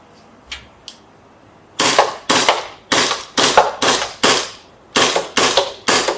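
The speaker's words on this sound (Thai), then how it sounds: "โอเคยิงได้ทดสอบยิง" An M9A1 gas pistol test-fired, close and loud: two faint pops, then a quick series of about eight sharp, crisp shots in an uneven rhythm with brief gaps between them.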